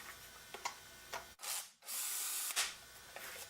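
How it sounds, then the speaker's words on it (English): A power drill spins up briefly twice, driving nuts on a vacuum cleaner motor, short whirring bursts amid scattered clicks and metallic handling noises, fairly quiet and close. "And I'll use the drill for this one,"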